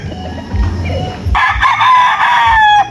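A young game-fowl stag crows loudly and close, one long strained cock-a-doodle-doo after a stretch of low rustling and farmyard noise.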